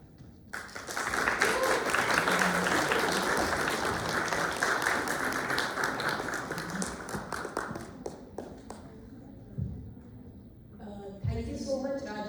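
Audience applause after a seminar performance, rising quickly into dense clapping, thinning to scattered claps by about eight seconds, then fading into quieter room sound with a voice near the end.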